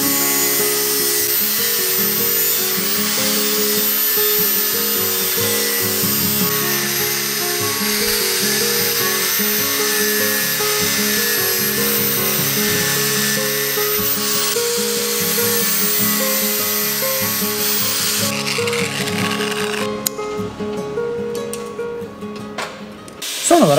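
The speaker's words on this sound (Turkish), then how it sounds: "avuç taşlama makinesiyle önce dikine kesikler atıp" A handheld angle grinder cuts vertical slots into steel plate while a knife is being made, giving a steady, loud, high-pitched whine with shrill metallic overtones that holds for about twenty seconds before breaking into rougher, uneven bursts.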